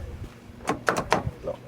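A Jaguar XF's doors lock with a quick series of clunks and mechanical thuds close by, the sharp actuator knocks arriving in a brief cluster.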